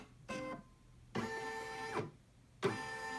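An embroidery machine runs a placement stitch in the hoop, three bursts of rapid mechanical whirring with brief pauses between them, close and steady with no voices.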